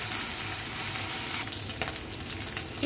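Food fries in a pan on a home kitchen stove with a steady, close sizzle, while a utensil stirs and scrapes through it in short bursts toward the end.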